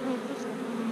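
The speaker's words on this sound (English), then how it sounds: "there's a gob of bees hanging, guys" A dense cluster of honey bees hangs on the comb, humming in a steady, even drone close by, with no voices.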